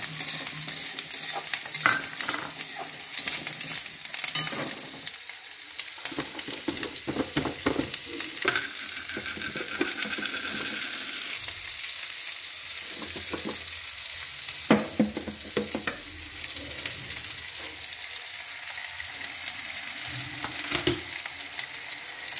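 Potato pieces fry in ghee and butter in a pan for a chicken soup, giving a steady close sizzle, while a utensil scrapes and stirs them in repeated irregular strokes throughout.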